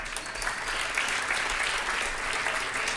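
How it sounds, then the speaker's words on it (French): Dense, sustained audience applause at the Prix de l'Ingénierie du Futur 2015 engineering awards ceremony, a continuous wash of many hands clapping at even loudness, heard on its own. "Merci à vous, on peut l'applaudir."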